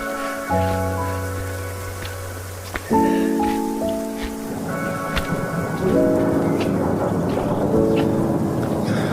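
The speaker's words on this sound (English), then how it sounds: "It's raining now." Heavy rain patters steadily at Whangārei Falls while rolling thunder rumbles in loud bursts, with several sustained tonal drones layered over the storm noise.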